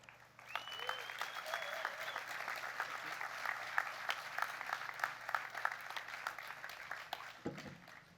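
Audience applause welcoming speakers at an outdoor safety rally, a steady wash of clapping from a moderate-sized crowd lasting several seconds, fairly distant, with faint voices underneath.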